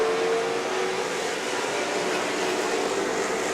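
Vintage race cars pull away together at the start of an SVRA race at VIR, a steady broadband engine roar that holds at an even level throughout, with no voices over it.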